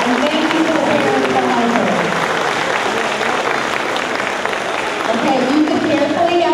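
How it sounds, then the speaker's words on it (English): At a school academic awards ceremony, a large audience gives dense, sustained applause, a steady wash of clapping with cheering voices mixed in throughout. "So let's give them all a round of applause for participating."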